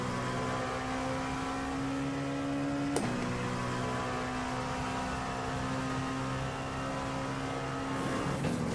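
An LMP2 prototype race car on the Le Mans circuit in the iRacing simulator, its engine a loud, steady high-revving drone with a sharp gear-change crack about a third of the way in, running alone without talk.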